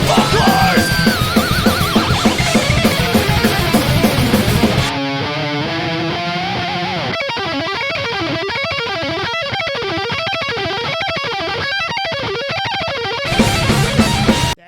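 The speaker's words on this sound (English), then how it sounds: "sick guitar playing" A distorted, fast-picked electric guitar solo from raw multi-tracks, with rapid, wavering runs over loud rock backing, dense and continuous throughout, with no voices.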